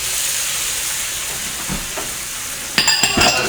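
Tomatoes dropped into a hot pan of vindaloo, a steady sizzling hiss with brief stirring scrapes, then a louder burst of crackling spitting as the ingredients hit the pan near the end.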